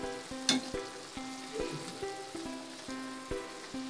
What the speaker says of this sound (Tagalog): bago ang lahat ay ipiprito muna natin ang talong